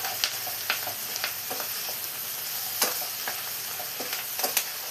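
A spoon stirs and scrapes chicken mulakittathu with curry leaves in coconut oil in a frying pan, making close, irregular strokes over a soft, steady sizzle.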